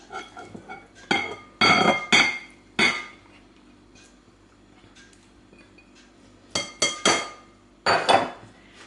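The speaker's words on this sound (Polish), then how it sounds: "Kaszę pęczak już mam uprażoną, przekładam do miski." Toasted pearl barley being moved into a bowl in a home kitchen, several sharp clinks and scrapes of a utensil against dishes in short bursts with quiet pauses between, no talking.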